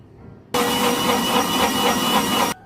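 An electric mixer blends mint lime juice with cold water and sugar, switching on abruptly into a loud, steady, dense whirring roar that holds for about two seconds and then cuts off sharply.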